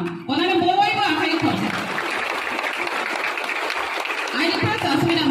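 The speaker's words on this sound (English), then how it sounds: "All of you give a huge round of applause as a sign of welcome." Steady crowd applause at a children's science congress, a dense wash of clapping that holds for several seconds, with a voice speaking over the start and end.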